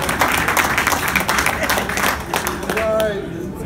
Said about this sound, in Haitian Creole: Applaudis, monsieur, à moi, s'il vous plaît.